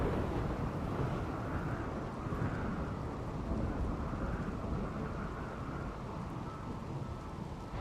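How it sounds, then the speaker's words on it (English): Steady rain hisses in a dense, even wash from the RimWorld video game, with low rumbling thunder rolling underneath and no break in the downpour. "Luckily there's rain, so the rain will help put out the fires as well."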